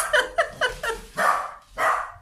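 Dogs at home bark excitedly, a quick run of four yaps followed by two longer, louder barks, close by and with no voices over them.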